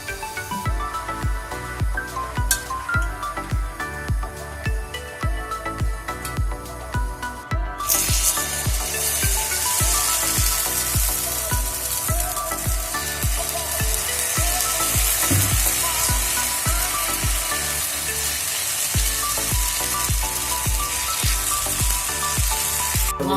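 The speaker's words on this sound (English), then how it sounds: "Now the pan is hot. I'm going to add a few drops of oil to it." Oil spits and hisses across a hot pan readied for uttapam, a sudden loud sizzle that swells in and holds as a dense, continuous crackle under light background music.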